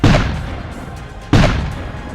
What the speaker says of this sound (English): He ordered 2 cannons be prepared with heavy charges to fire the signal alarm for distress